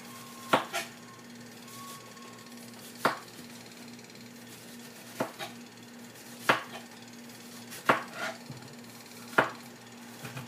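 Knife work on a ripe cantaloupe, peeling the rind away just behind the green layer, gives sharp, close scraping cuts at irregular intervals of a second or two over a steady low hum, with no talk.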